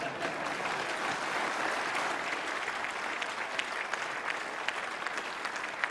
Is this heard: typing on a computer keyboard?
no